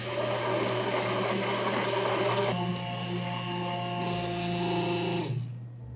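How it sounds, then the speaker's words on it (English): An immersion blender whirs through orange flan custard made with Cointreau, a loud steady motor whine that shifts pitch midway as the blade works the mixture, then cuts off abruptly near the end. "now I'm gonna use the immersion blender"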